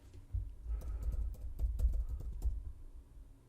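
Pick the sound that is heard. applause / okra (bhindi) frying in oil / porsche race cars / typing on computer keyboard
typing on computer keyboard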